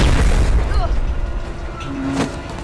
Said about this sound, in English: I recognize the flak.